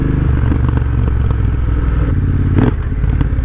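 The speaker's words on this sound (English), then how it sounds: "I just can't get over the sound of the exhaust." A Triumph Thunderbird 1700 muscle cruiser motorcycle rumbles steadily under way, its exhaust a loud, continuous low throb with a brief swell partway through.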